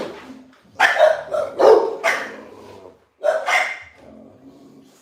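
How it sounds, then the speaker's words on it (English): Several dogs bark loudly at feeding time, in two bursts of rapid, overlapping barks separated by a short pause, close to the listener. "Let me finish feeding my dogs."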